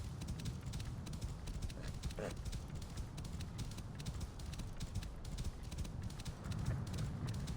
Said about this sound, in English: this has been a very nice morning horse ride